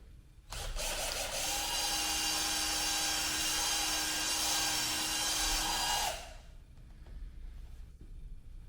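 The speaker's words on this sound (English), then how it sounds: "Found a little drill tool. I think it's meant to like recess the wood, but it's a good size of the bolt," A power drill with a wood-recessing bit boring bolt holes through layered wood, a loud steady whine that starts abruptly, holds for about six seconds, then cuts off, leaving quieter background noise.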